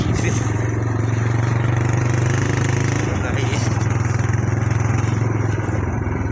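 A Ninja motorcycle's engine runs steadily on a village road, a loud, close, constant drone with faint clatter, while people talk over it.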